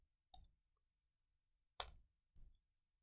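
Three crisp mouse clicks land on their own against near silence while an image is being edited in Photopea, each a short sharp tick.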